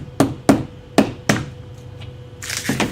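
A pin is tapped into a wall to mark anchor holes. Four sharp, close hammer taps come in an uneven rhythm, followed by a softer rustle at the end.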